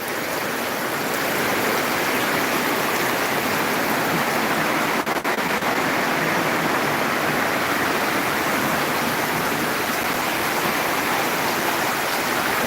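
Heavy torrential downpour in Tripura, a dense, loud, continuous roar of rain that stays unbroken throughout with no voices.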